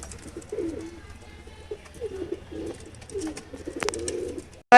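Madras pigeons in a loft give repeated soft, throaty coos in short rolling phrases, close and clear over a quiet background, ending with a sudden louder noise.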